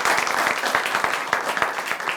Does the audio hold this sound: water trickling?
no